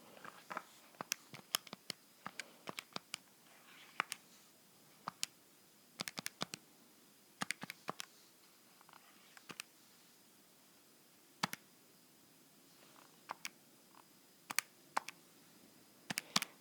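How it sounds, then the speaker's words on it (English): Calculator or keyboard keys are tapped in short, irregular bursts of crisp clicks, with quiet pauses between the groups and no talking. "Let me type that in."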